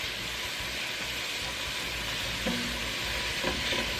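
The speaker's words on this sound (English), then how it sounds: "we've got about a cup and a half of onions going in here." A cup and a half of minced onions sauté in a pan, giving a steady, close sizzle with a couple of soft stirring knocks near the end.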